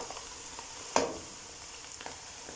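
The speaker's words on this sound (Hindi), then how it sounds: "प्याज़ों को हल्का गोल्डन कर लेंगे।" Finely chopped onions, two medium ones, fry in a pan toward light golden with a soft, steady sizzle, broken by one sharp stirring scrape and a couple of faint clicks, quiet and close with no talk.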